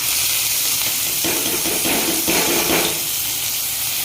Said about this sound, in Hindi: तो देखिए मिर्च और प्याज को मैं भून रहा हूँ।